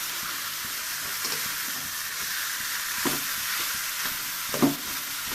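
Banana stem curry with papaya gently frying in a pan gives a soft, continuous hiss with a couple of faint stirring knocks, low and close, no talking.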